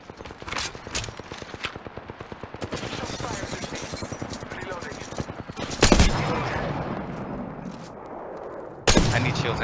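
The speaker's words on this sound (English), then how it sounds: "The enemies are shooting at me." Enemy gunfire in the shooter game Apex Legends: rapid automatic bursts rattle steadily through the whole stretch, with a couple of louder sharp blasts near the end and a voice talking over it.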